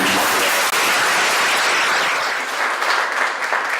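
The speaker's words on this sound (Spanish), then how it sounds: "Pues les agradecemos un aplauso." Loud, dense crowd applause at a posthumous memorial tribute in Teotihuacán, Mexico, sustained and even across the whole stretch, close and full with no speech on top.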